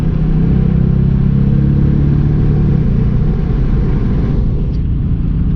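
A stock 2019 Dodge Challenger R/T with its 5.7-liter V8 engine sends out a loud, deep rumble, with the revs swelling and then easing back. The sound is close and continuous, and no one talks.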